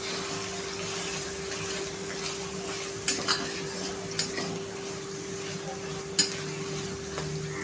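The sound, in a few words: stirring and roasting mawa in a pan for lauki halwa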